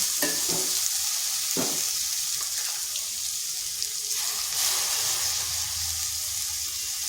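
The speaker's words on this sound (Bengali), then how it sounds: "আলুটা হালকা ভেজে নিচ্ছি" Grated potato, drained of water, frying with salt in a pan in a home kitchen, giving a steady close sizzle with occasional stirring scrapes and clinks, no voices.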